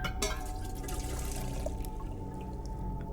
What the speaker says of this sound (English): I fill it with water.